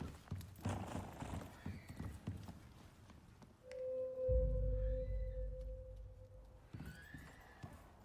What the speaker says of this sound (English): Why are the horses so noisy?